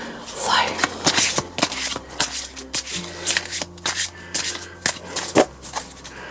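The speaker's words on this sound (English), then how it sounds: "let's give them a good shuffle" A deck of cards being shuffled, with repeated crisp riffling bursts and soft rubbing of cards close by, running throughout under a steady low hum.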